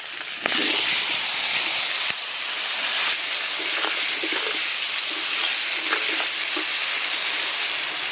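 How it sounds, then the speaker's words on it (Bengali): Cut eggplant drops into hot oil tempered with nigella seeds and slit green chilli, setting off a loud, continuous sizzle with occasional stirring scrapes and pops close by. No one speaks. "এবারে আমি কেটে রাখা বেগুনগুলো দিয়ে দেব"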